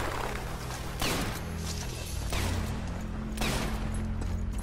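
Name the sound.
gunfire from the video game Sniper Elite 4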